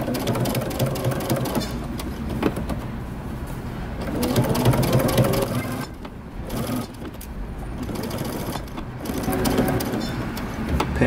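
A sewing machine back-stitches a shirt collar, running in a continuous close, loud whirring rattle. Its speed drops and rises briefly as the stitching reverses direction.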